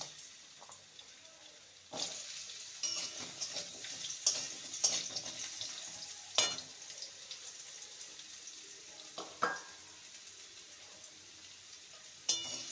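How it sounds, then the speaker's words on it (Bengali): Thin, long strips of two medium potatoes fry in hot oil, a soft continuous sizzle broken by scattered clinks and stirring knocks from the pan, fairly close and moderately quiet. "তেলটা ভালো মতন গরম হয়ে গেছে প্রথমে আলুর টুকরোগুলো দেব"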